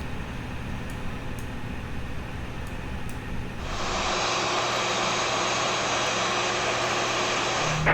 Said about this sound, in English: let's go ahead and start the engine number 1